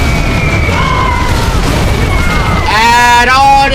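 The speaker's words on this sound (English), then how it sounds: "Bombs away!" Bombs from a bombing run in the C&C Generals game explode as a deep, rumbling boom that rolls on, joined near the end by harmonic game tones and a voice speaking over it.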